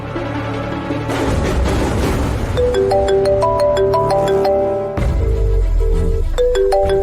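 A phone ringtone plays a repeating melodic tone pattern during a call scene in a Kannada TV serial, loud and close over a dense dramatic background score.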